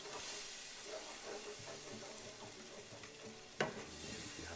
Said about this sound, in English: Making sure we're mixing all the bits and pieces from the pork chops.